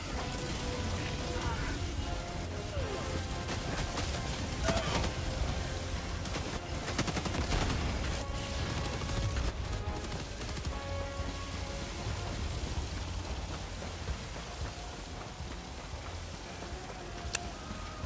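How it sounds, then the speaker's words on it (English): An orbital laser strike in a video game fires continuously, a dense, loud crackling and sizzling barrage that roars on for many seconds without a break. "Firing orbital laser."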